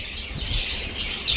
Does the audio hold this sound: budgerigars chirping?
yes